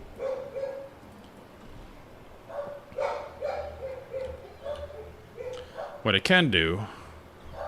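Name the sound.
dogs barking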